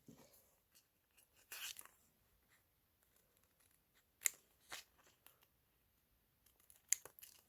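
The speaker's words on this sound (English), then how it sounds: "I'm just going to put this down on here and I'm going to cut it out." Scissors snip through glitter fabric in a few sparse, crisp cuts with crinkly rustling between them, faint and close, separated by quiet pauses; no one speaks.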